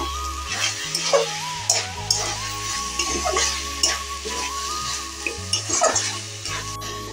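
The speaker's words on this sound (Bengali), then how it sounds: "ভালো করে নাড়িয়ে চাড়িয়ে নেব।" Cabbage with fish head is stirred in a pan with ghee and garam masala, a sizzle with repeated scraping strokes of a spoon, mixed with steady tonal background music.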